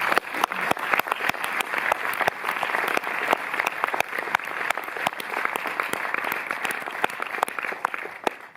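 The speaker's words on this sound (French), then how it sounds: "j'ai envie qu'on applaudisse tous nos partenaires" An audience at a cinema in Montreuil applauds partners, giving steady, full clapping from many hands with sharp individual claps standing out, lasting several seconds without speech.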